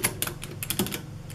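Keys pressed on a Soviet VMM-2 mechanical calculating machine: a quick run of sharp, bright mechanical clacks at an uneven rhythm, close and fairly loud, with no voices.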